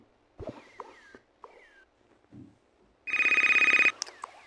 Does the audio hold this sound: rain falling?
no